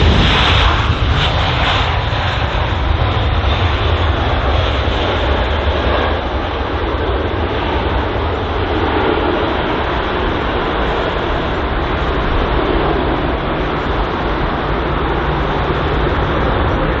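Jet airliner in plain white livery at London Heathrow airport, a loud, steady engine roar with broadband rumble sustained throughout, no voices.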